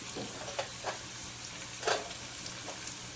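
Fennel seeds, fenugreek seeds, chillies and spice leaves crackle in hot oil for a tempering. The sizzle is soft and steady, with scattered sharp pops and one louder splutter.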